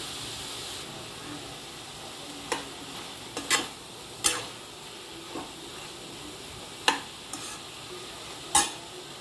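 Bottle gourd pieces frying in a pan for a traditional curry give a steady close sizzle, broken by several sharp spatula clacks against the pan.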